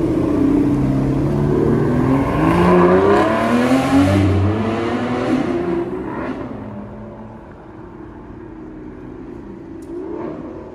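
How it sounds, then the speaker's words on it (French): An Aston Martin V12 revs loudly nearby during Paris carspotting, its pitch climbing and falling over several seconds before the roar fades away into quieter street ambience. "Si on peut avoir une belle mélodie de V12"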